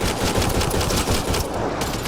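Rapid automatic gunfire in Mass Effect Andromeda, a loud, dense stream of shots rattling in quick rhythm for about two seconds, close and with no voices.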